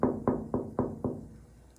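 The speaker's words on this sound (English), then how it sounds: "I'm gonna knock the door." Five firm knocks on a door come in an even, steady rhythm, close and clear, followed by a short quiet tail with no talking.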